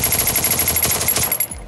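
Rapid automatic gunfire from a ranked battle-royale style shooter match, a dense continuous burst of loud, evenly spaced shots that cuts off at the end.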